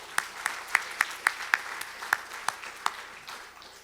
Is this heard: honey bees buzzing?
no